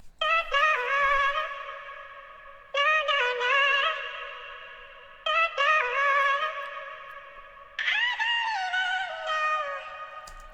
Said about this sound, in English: I found this female vocal kit at this FL Cloud bank